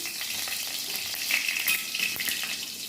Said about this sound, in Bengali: এবার একটু জিরে ফোড়ন দিয়ে শুকনো লঙ্কা দিলাম